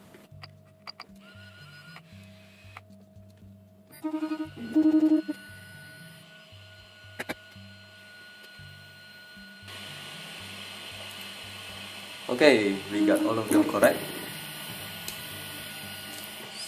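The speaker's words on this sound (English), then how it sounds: "Okay, the printer's on. I'm going to run the self-test and the XYZ calibration." A Prusa MK2S 3D printer runs its self-test and XYZ calibration with quiet stepper-motor tones, short buzzing moves and clicks, and a brief louder rattling burst near the end. A person speaks briefly.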